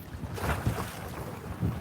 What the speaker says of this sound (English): it's getting windy, guys